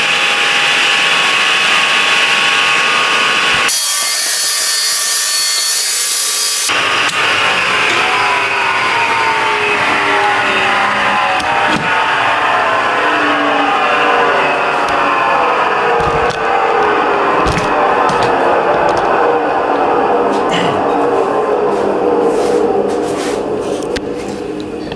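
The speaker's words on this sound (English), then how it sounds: "So I'm going to spin the saw up, break the power" Wadkin BGS 12-inch sliding panel saw whining loudly as it spins up, a brief break, then a steady high running tone that slowly winds down after the power is cut, no talking.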